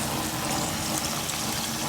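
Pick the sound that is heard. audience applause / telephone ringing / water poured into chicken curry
water poured into chicken curry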